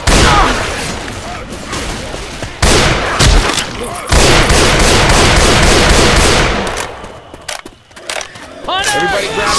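Heavy gunfire in Left 4 Dead 2 zombie shooter game, loud rapid bursts of shots and booms filling most of the stretch with brief pauses, voices and game sounds mixed in.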